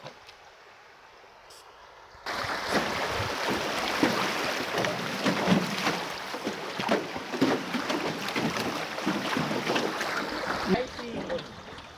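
A boat drifts without an engine down the Nam Kham river. Water rushes and burbles steadily close by, with wind buffeting the microphone, after a quieter opening.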